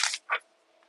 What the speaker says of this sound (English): one more good shuffle, guys, because it was completely in order